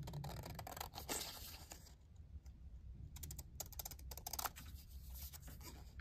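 Scissors cutting out a paper label at a crafting desk, a quiet run of crisp snips and rustles near the microphone, with a brief pause before cutting resumes.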